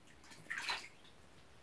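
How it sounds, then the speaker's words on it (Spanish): A toddler splashes in bath water, a short burst of splashing and sloshing mid-clip, fairly faint and close, with no talking. "A ver cómo salpicas."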